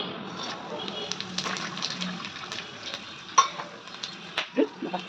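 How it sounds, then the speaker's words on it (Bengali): Whole cumin, dried red chili, bay leaf, cinnamon and green cardamom sizzle and crackle in hot oil in a pan, with a soft steady frying hiss broken by small pops and light scraping, while someone talks over it. "তেলটা গরম হয়ে গেছে, এখন এর মধ্যে দিব এক একটা গোটা মশলা।"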